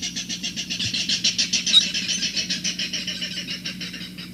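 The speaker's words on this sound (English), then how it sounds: "The clapper rail. This bird was seen in quite a few ponds. He's a very noisy bird." A clapper rail calling from mangroves around a pond on St. John, a loud run of rapid, evenly spaced harsh clacking notes that slows slightly and fades toward the end, heard alone.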